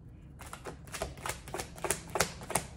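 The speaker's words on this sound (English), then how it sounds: "Cards are shooting out." Tarot cards, a Rider-Waite deck, are shuffled in a quick series of soft, crisp riffling flicks, faint and close, with a few irregular bursts.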